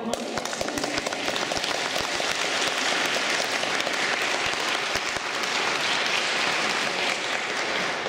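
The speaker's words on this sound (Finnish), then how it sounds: "Voidaanko antaa ekaksi aplodit Antille?" An audience gives a long round of applause: a dense, continuous patter of many hands clapping, fairly loud and even for about eight seconds, with no talk over it.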